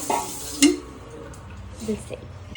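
Beef liver frying in a pan gives a soft sizzle under a few stirring scrapes and one sharp metallic clink, close by, with faint background noise.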